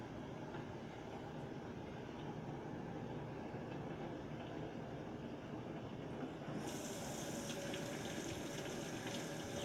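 Water from a kitchen sink tap runs in a steady, faint rushing stream as a hand is rinsed off, turning brighter and splashier toward the end.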